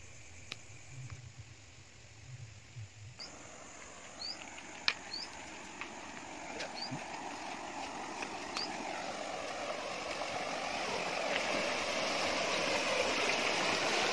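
Water rushes steadily through a village irrigation channel in Sri Lanka where the flow splits in two, growing gradually louder, with a few faint high chirps scattered over it.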